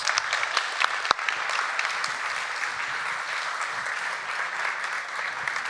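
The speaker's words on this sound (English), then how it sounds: "Let's give them a round of applause." Steady audience applause fills a live stage show at the Codegarden 2023 conference as two guests are called up, a dense even wash of clapping from a sizable crowd with a few sharper nearby claps standing out.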